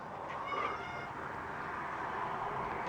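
A house cat at a window gives a low, drawn-out yodel-like call aimed at birds outside, a faint single vocalization early on over steady background hiss.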